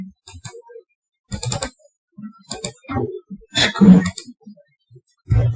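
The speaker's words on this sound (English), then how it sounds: "I'll just type somewhere." Bursts of close, crisp keystrokes on a computer keyboard come in short uneven clusters separated by brief silences, with no talking.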